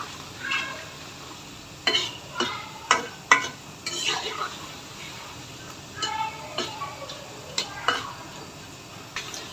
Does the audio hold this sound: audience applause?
no